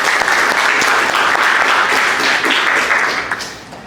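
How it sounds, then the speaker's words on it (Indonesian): Dense applause from a classroom audience after a group presentation, many hands clapping steadily and loudly for several seconds before fading out at the end. "Oke, silakan beri aplaus."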